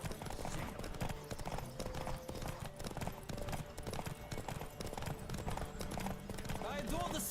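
A horse galloping in a race in the video game The Witcher 3, with steady rapid hoofbeats throughout, an occasional whinny, and voices talking over the gallop.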